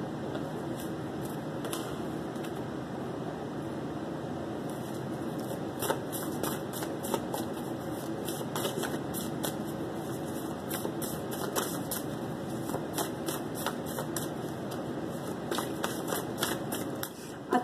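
Tarot cards are handled at a reading: soft riffling and shuffling, then a string of crisp clicks and flicks as cards are drawn from the deck, fairly quiet and close.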